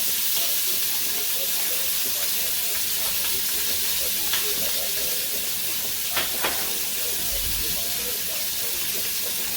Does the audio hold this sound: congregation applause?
no